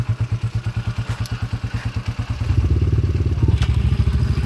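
A Yamaha Aerox version 2 scooter with a 200cc engine conversion idles in a steady, lumpy single-cylinder putter, then revs up to a louder, faster, continuous drone for the second half, close by.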